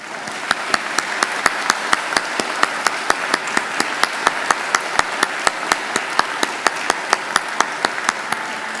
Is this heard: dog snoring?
no